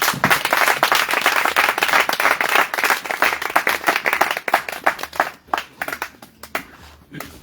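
A church congregation in a village applauds to acclaim the Lord, with dense, fast, loud clapping that continues steadily before thinning into scattered claps toward the end, with no talking.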